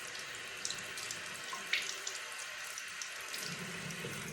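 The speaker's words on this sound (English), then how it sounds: "And rinse it under a stream of cold water." A ring is rinsed under a stream of cold tap water at a sink, a soft steady splashing rush with a few faint clinks and drips, quiet and close, with no talking.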